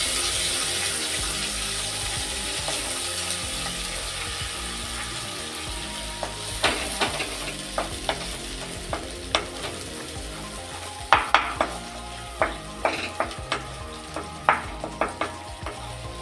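Garlic and onion paste fries in hot oil for an egg curry with curd. A soft, steady sizzle builds into sharper crackles and pops over the second half, with no talking.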